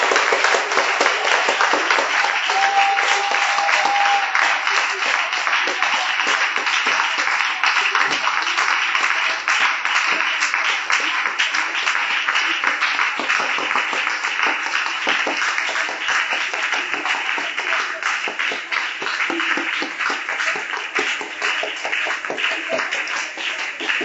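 Sustained applause and clapping from a church congregation at a prayer and teaching gathering in Yopougon, a steady dense wash of hands that carries on for the whole stretch without a break.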